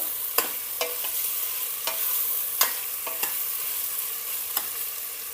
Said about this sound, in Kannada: ಆಲೂಗಡ್ಡೆನ 1 ನಿಮಿಷ ಜಸ್ಟ್ ಒಗ್ಗರಣೆ ಒಳಗೆ ಫ್ರೈ ಮಾಡ್ಕೊಳ್ಳೋಣ